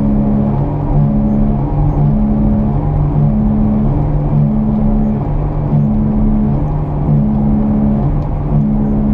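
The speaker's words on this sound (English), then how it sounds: "Listen to the sound the bearing makes." Bad front wheel bearing on a car being driven, a steady low droning hum and rumble under road and engine noise, with faint periodic pulsing throughout and no voices.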